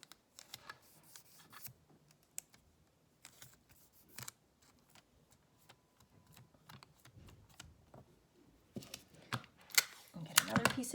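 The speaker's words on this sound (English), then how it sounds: "And as you peel the tape off, the ink comes off with it." Tape pressed onto a clear stamping plate and peeled off to lift ink, heard as scattered close crinkles, taps and sticky tearing pulls with quiet gaps, growing busier and louder near the end.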